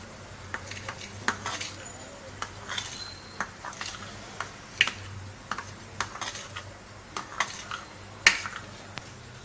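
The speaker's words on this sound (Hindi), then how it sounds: "अब हम मिक्स करेंगे।" Rainbow cake batter, coloured with green, blue and yellow, is mixed in a bowl, giving repeated light clinks and taps of utensil against the dish at an irregular pace over a quiet background.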